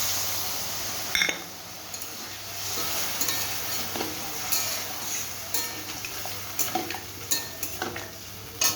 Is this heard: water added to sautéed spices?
yes